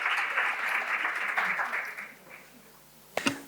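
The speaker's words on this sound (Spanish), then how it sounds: "Un aplauso, por favor" A university audience applauds at a professional event's opening, a dense, close burst of clapping that fades after about two seconds, followed by a short knock near the end.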